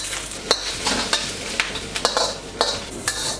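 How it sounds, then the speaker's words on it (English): Leafy greens salted and stirred in a hot pan for pad see ew, a spatula scraping and clicking in quick irregular strokes over a steady close sizzle, with no talk. "Make sure to stir it so it doesn't burn."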